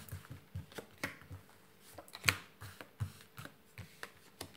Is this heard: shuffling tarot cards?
yes